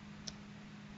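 A single sharp computer mouse click stands alone against a steady low background hum.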